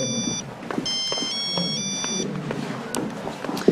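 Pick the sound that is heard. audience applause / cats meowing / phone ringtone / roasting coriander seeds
phone ringtone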